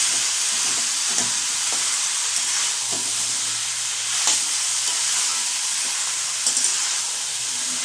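Cabbage frying in a pan with spices, potatoes and a rohu fish head for a Bengali ghonto, a steady sizzle with occasional scraping stirs and soft clinks, close and continuous without talk.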